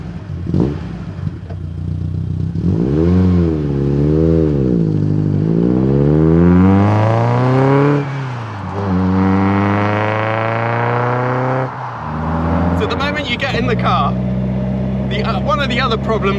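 A Caterham 21 sports car engine drones and swells through rising and falling revs while driving, loud and close with a gear-change dip midway, ending with clattery mechanical noise.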